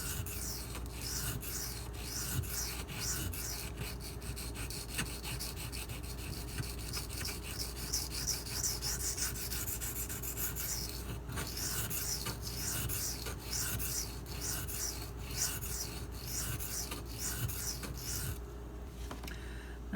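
Grinding a chip out of the edge of a Spyderco Lil Native folding knife on a sharpening stone, a continuous close rasping scrape with steady rhythmic strokes throughout and no voices.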